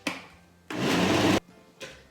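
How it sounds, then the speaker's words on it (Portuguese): An electric blender mixes carrot cake batter, a brief buzzing whir that runs steadily for under a second between short bursts, close and fairly loud. "no liquidificador e bater até que se perceba que já está bem misturado"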